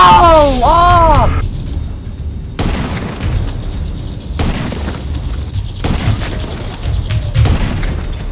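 Gunfire in the video game GTA V Online (PC), several sharp booming shots spaced a second or two apart over steady game background noise, with an excited voice calling out near the start.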